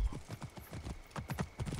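Horse hooves clip-clopping at a galloping pace in Assassin's Creed Origins, a fast regular rhythm of close, distinct hoofbeats on ground, without speech.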